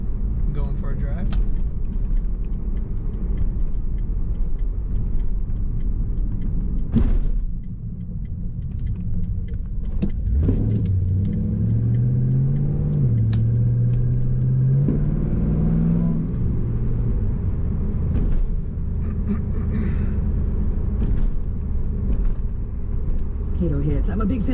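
1999 Pontiac Firebird Trans Am 30th Anniversary driving, a steady low engine rumble from inside the car with a rising rev partway through, then settling back into a constant drone.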